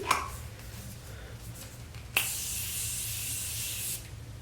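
Morphe setting spray mists onto a face in one steady hiss lasting nearly two seconds, close and moderately loud, following a faint tap or click.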